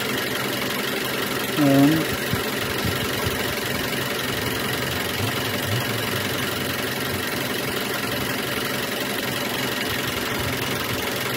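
A car engine idles steadily during an idle speed control valve test, its RPM gradually dropping as the engine vibrates, with a continuous close rumble and one brief spoken word near the start.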